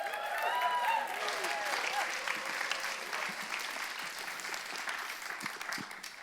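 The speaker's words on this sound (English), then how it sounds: "Do you want to give her a round of applause?" A church congregation claps in sustained applause, dense and moderately loud, while voices carry over the start and the clapping gradually thins toward the end.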